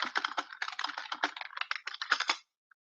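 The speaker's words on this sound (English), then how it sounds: "But if I start typing" Rapid keystrokes clatter on a computer keyboard while text is entered into Notepad, a close, quiet burst of irregular taps lasting a couple of seconds before stopping.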